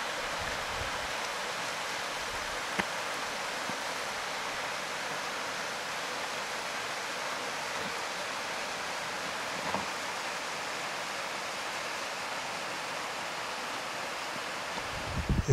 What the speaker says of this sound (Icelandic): Þau streyma morlækirnir niður hlíðina.